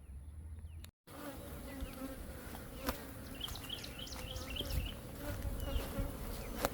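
Honey bees buzz around a beehive while supers are added, a dense, steady droning swarm close by, with individual bees whining past in brief rising and falling tones.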